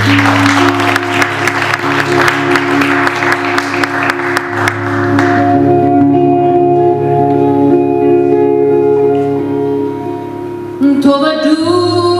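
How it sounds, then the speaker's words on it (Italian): A live audience applauds at a song presentation. Loud, dense clapping sounds over sustained musical tones, then fades after about five seconds, leaving the held notes ringing alone. "Un applauso."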